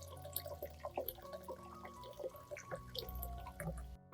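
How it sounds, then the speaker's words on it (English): Warm water is poured over separated garlic cloves in a large bowl, a faint run of small splashes and drips with soft liquid trickling. It is quiet and close, with no talking. "Then pour in warm water at about 40 to 50 degrees Celsius."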